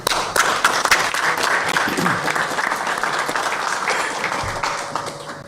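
Applause for the Public Works Department team at a City of Commerce meeting: a roomful of people clapping steadily and fairly loudly, a few sharper claps standing out, fading slightly near the end.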